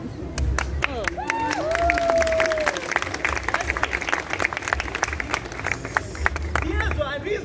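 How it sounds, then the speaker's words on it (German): Audience at a street festival clapping steadily in a brisk rhythm, crowd applause sustained throughout with a voice speaking over it and a brief whistle-like shout early on. "Applaus für Tiersohn."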